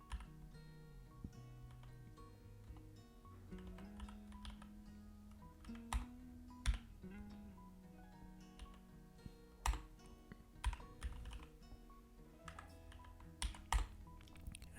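Quiet, irregular bursts of computer keyboard keystrokes while code is entered, sharper clacks standing out now and then over a soft background hum, no voice present.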